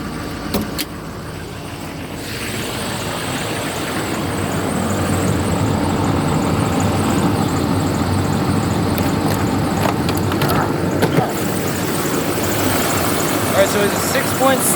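A 2007 GMC Sierra 2500HD with a 6.6 liter diesel V8 idles right after a cold start, a steady close rumble that grows slightly louder after a couple of seconds and holds even.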